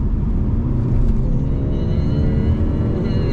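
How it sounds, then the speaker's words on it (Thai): Mercedes-Benz CLE accelerating hard to overtake from 80 to 120 km/h, heard from inside the cabin as a steady, loud engine and road drone with a slowly rising pitch, no talk. "เดี๋ยวจะลองอัตราเร่งนะ จังหวะเร่งแซง ช่วง 80ถึง120"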